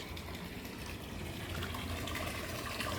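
Steady, continuous rush of borewell water pouring and splashing into a tank, loud and unbroken throughout.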